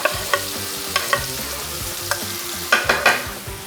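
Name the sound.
garlic and ginger sizzling as they are stir-fried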